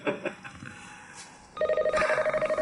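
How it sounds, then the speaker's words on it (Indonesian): A telephone rings in an office-like setting, starting with a few faint trills and then a loud, close electronic ring pulsing rapidly and steadily for over a second. "Maaf, aku angkat telepon dulu."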